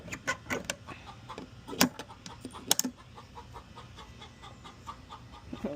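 A hen about to lay eggs gives short clucks near the microphone, soft and irregular, among faint clicks and rustles in a quiet setting.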